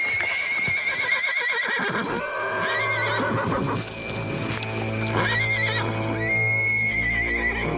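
Horses whinny and neigh repeatedly, several loud rising-and-falling calls close by, with hoof clip-clop and shuffling in between.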